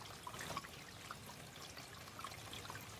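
Water drains steadily out of an RV black and gray holding tank during cleaning, a continuous close trickling and pouring wash with no pauses or voices.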